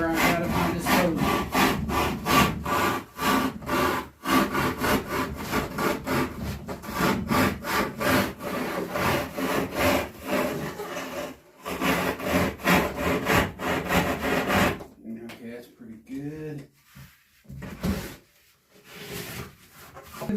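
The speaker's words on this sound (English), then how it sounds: "Can't beat the Sawzall." A Sawzall reciprocating saw cuts through wood in rapid, steady rasping strokes while shaping the corners of a muskie fish mount. The cutting runs loud and close for about fifteen seconds, then gives way to quieter, intermittent scraping.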